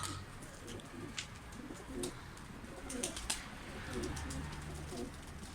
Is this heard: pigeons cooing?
yes